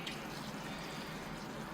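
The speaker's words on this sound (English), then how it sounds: "So I'll give it a water now." Water poured onto a freshly repotted Pyrenean oak bonsai, a faint steady splashing trickle into the soil that runs unbroken and alone.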